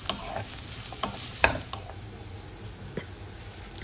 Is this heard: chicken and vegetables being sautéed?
yes